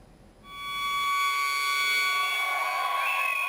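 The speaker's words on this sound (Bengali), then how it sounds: "সাইরেন বাজতেই বাসি নিয়ে হাজির স্থানীয়রা" A neighbourhood alarm siren in Kadamtali, Dhaka, raised against drug dealers, swells up from quiet and holds a loud, sustained wailing tone with no one talking.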